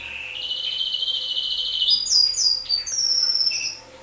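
A bird sings loudly from a balcony in Spain, a continuous run of bright chirps and trills close by, with no talking over it.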